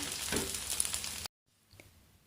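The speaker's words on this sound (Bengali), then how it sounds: "বাকি পকোড়াগুলোও ভেজে নেব একইভাবে" Sago pakoras frying in hot oil, a close, bright crackling sizzle that cuts off abruptly midway, followed by a faint, softer sizzle.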